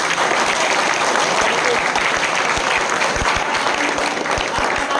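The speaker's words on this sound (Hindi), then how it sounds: "हमारे टीम के लिए जोरदार ताली बजा दीजिए आप लोग" Audience at a blood donation day event applauds a role-play team with steady, dense clapping across the whole stretch, loud and sustained with a low rumbling thump underneath.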